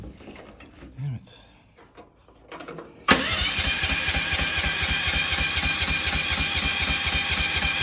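A stalled excavator engine cranks over and catches, preceded by a few quiet clicks and handling sounds, then a loud steady rhythmic chugging that carries on to the end with no talk.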